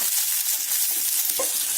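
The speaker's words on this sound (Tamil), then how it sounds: "வெங்காயம் வதங்கிட்டு இருக்கும்போது ஒரு பூண்டு உரிச்சிருக்கேன்" Onion and garlic sautéing in a clay pot for a village-style fish curry, a steady close sizzle with a brief stir or scrape near the end, no voices.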